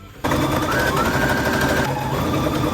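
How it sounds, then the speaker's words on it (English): A sewing machine stitches a V shape on a dress in one continuous close run, a fast, even mechanical rattle that starts abruptly and holds steady, with a slight shift in pitch partway through. "next step is to sew this V shape."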